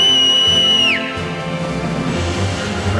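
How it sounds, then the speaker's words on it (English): A video game character in a Final Fantasy Mobius cutscene gives a loud, sharp whistle that holds a steady high pitch and then drops off, followed by faint background music. "Just whistle."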